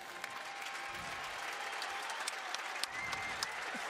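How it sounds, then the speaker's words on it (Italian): A distant crowd filling a piazza at the Calcio Storico Fiorentino final in Florence applauds, a faint, steady wash of clapping with a few sharper claps standing out. "L'applauso"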